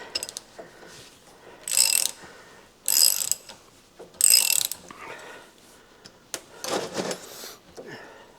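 A ratchet clicks in several short bursts while driving out a tight bolt, a series of loud close ratcheting runs separated by brief pauses and small metallic knocks.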